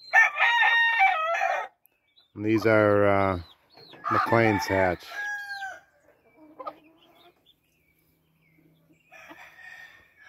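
Game chickens, a small stag, a hen and a pullet, crow and cluck in bursts, loud and close, with someone briefly talking between the calls.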